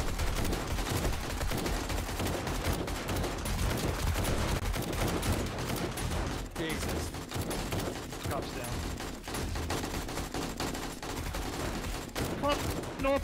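Gunfire in the video game 7 Days To Die crackles in rapid, dense bursts throughout, fairly quiet and continuous, with speech faintly mixed in.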